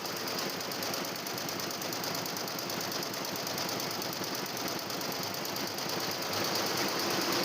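An industrial sewing machine in a factory stitches decorative designs onto a punjabi garment, running as a dense, steady mechanical rattle that stays loud and unbroken from start to finish with no talk.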